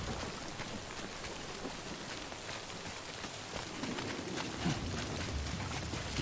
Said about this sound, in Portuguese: O som da chuva tá muito legal.